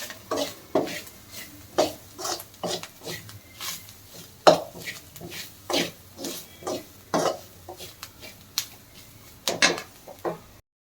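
Grated coconut frying over low heat in a pan for a Kannada beans bassaru, with a utensil stirring and scraping against the metal in repeated sharp, close clicks and scrapes and only a faint sizzle beneath.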